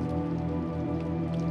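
Steady outdoor rain in the video game Little Nightmares II, a dense even patter of drops on surfaces continuing throughout, soft and ambient with no other sounds.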